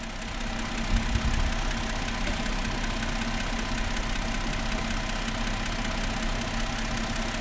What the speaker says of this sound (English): Now we let it idle.